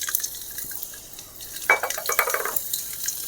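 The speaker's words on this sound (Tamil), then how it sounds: "எண்ணெய் சூடாயிடுச்சு. நம்ம பூண்டை போட்டுக்கலாம்." Garlic dropped into hot oil in a pan for an apple thokku, a sharp sizzling burst about midway that continues with light stirring and scraping, close and moderately loud with no talk.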